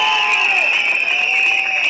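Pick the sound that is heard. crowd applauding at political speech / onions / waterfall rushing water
crowd applauding at political speech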